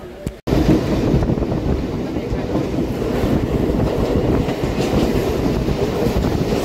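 A Mumbai local train running, with a loud, steady rumble and rattling wheel clatter throughout, after a brief dropout at the very start; wind buffets the microphone.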